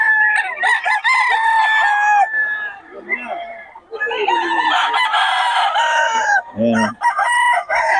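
Golden boy gamecock crowing loudly and repeatedly at Bocaue market, long harmonic crows in close succession with someone talking over and between them.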